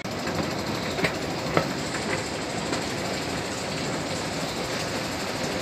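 Ambience inside a train station, a dense steady wash of low rumble and broadband noise with a few faint clicks and knocks, continuous and even throughout with no talking.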